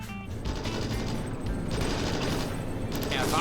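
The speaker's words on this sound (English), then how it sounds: "Returning fire." Rifle and machine-gun fire crackles in a dense, continuous fusillade in the WWII video game Stalingrad, loud and close, with crashes mixed into the battle din.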